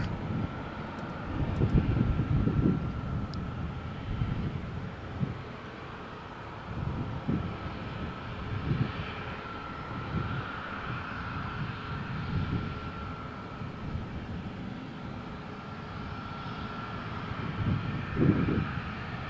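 A jet airliner roars down Malaga Airport's runway 13 on its takeoff roll on a stormy morning, a broad, sustained engine rumble with a steady whine, surging in waves at a moderate distance.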